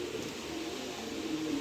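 A large, 2023-bred tagged pigeon coos softly: a low, faint, sustained murmur close by, with no talking.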